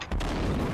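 Gunfire in the Max Payne video game: a short, loud, dense burst of shots crowding together into a single blast, with no talking.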